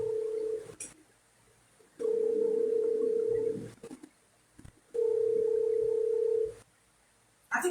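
A steady electronic interference tone from a phone pulses in long, loud, even bursts, about three of them with quiet gaps between, and no voices over it.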